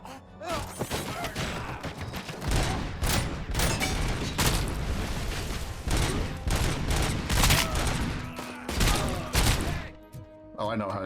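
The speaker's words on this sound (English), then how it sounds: "stop shooting at me" Heavy gunfire crackles continuously in Robocop: Rogue City as enemies shoot at the player, dense volleys with booms and thuds, loud and close throughout, with a voice talking over it.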